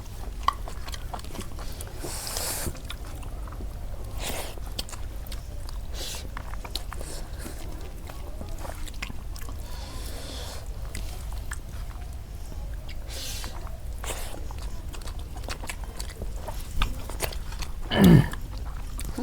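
Someone chews and eats home-made beef curry close to the mic, with soft, wet mouth sounds and occasional bites over a steady low background hum.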